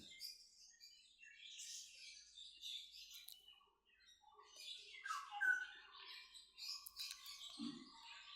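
Golden finches and cockatiels at the Garia bird market give soft, scattered chirps and tweets, faint and fairly distant, with no voices in the foreground.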